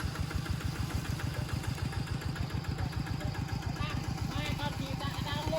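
A tractor engine runs steadily close by at a rural Bru wedding in a rubber plantation, a low rhythmic chugging pulse that holds constant throughout.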